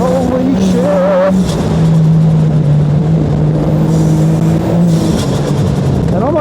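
A side-by-side buggy engine revs and accelerates loudly up close over rough terrain, its pitch rising and falling with gear changes, while someone talks over the engine noise throughout.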